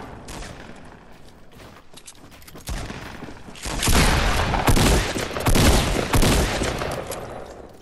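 Rapid bursts of gunfire from a battle royale video game, scattered shots at first, then heavier sustained volleys in the second half, loud and crackling with no talk over them.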